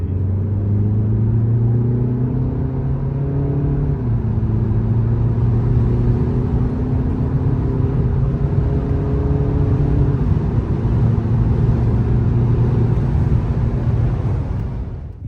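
A 190-horsepower Volkswagen Passat B8 with a seven-speed wet-clutch DSG DQ381 gearbox accelerates steadily, its pitch climbing through gear changes with a loud, continuous rumble close by, no talking.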